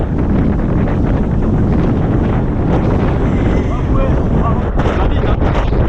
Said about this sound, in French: Il y a un peu de vent, si vous entendez pas, c'est normal.